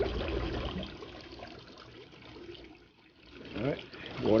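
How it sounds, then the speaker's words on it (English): Water trickles into a backyard koi pond skimmer once the pump is switched on, a soft, low flowing sound with a voice talking over it at the start and again near the end. "water start flowing in"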